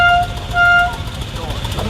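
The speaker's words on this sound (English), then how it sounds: "Can we hear your horn," A veteran car at the start of the London to Brighton run sounds its horn in two short, bright, nearby honks, followed by crowd and street noise with people talking.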